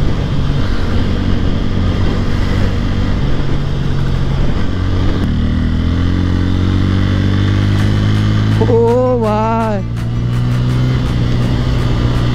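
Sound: motorcycle accelerating at full power

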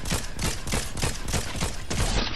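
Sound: gunfire from the video game Fortnite

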